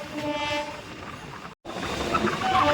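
A Kolkata circular railway train runs beside the Ganges River, with a steady broadband rumble and rattle of carriages, loud and close, briefly cut by a short silent gap before continuing.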